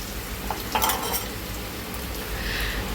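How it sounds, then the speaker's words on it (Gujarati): Garlic and cumin tempering in hot oil in a home kitchen: a faint, steady sizzle with a few soft clinks and stirs against a low background rumble. "ગરમ થઈ ગયું નાખી દઉં લસણ જીરું"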